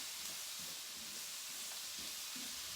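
Garlic and garlic-infused canola oil sizzle in a hot pan as it is stirred, a steady bright hiss with soft scraping underneath, close and continuous.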